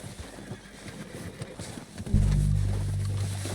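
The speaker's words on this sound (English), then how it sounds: "They're coming down with the horses." Horses in Red Dead Redemption 2 give a loud, close neigh, with a clatter of hooves beforehand and a low rumble sustained underneath.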